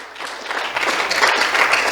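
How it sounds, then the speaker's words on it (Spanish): A church congregation claps in an offering of applause during a sermon, a brief burst of dense hand-clapping that swells steadily and stays loud throughout. "Démosle una ofrenda de aplausos al Señor, amados hermanos"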